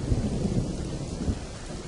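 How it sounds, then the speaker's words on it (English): Deep, rumbling thunder rolling through a rainy storm, a loud low boom blended with the steady wash of falling rain. "a loud clap of thunder filled the sky"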